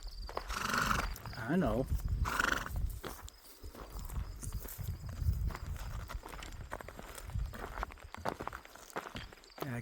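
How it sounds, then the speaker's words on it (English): Wild ponies in Grayson Highlands give a couple of loud whinnies and move about with soft hoof steps on the ground nearby, while a person speaks briefly and wind noise runs underneath. "now everywhere I look, I see more ponies"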